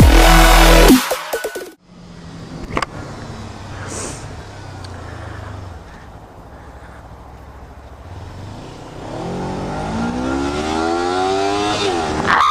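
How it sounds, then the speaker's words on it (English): Supersport cars racing, a loud engine roar cutting off abruptly, then a quieter stretch with a distant car passing before another engine rises and revs closer, its pitch climbing in sweeping waves. "That's a fast car, man."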